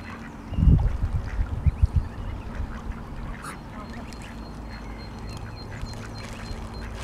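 Ducks and goslings at a village pond in Nærum in May give a burst of loud quacks and honks early on, then scattered fainter calls over a steady outdoor background.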